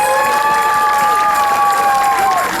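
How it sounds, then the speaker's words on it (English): Outdoor block party crowd at Hershey's Chocolate World applauding and cheering volunteers, a loud continuous wash of clapping and cheering with sustained whistling or cheering tones above it. "So let's give them another round of applause."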